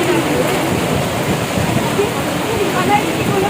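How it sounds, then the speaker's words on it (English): Continuous rain near Marina Beach in Chennai, a steady broadband hiss of falling water that holds at the same loudness throughout with no break. "It's raining continuously, so we are waiting here."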